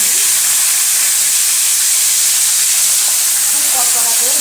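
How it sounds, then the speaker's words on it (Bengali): A fish head fries in hot oil in a wok with a loud, dense, continuous sizzle and hiss that holds steady for the whole stretch, close by and alone, with no talking. "মুড়োটাকে এখন কড়া করে ভাজবো"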